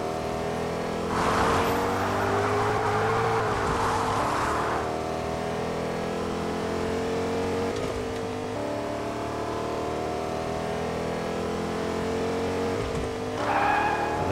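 A pickup truck engine drones steadily as it drives offroad in Fortnite, with a brief tire skid early on and another near the end, loud and continuous with no talk.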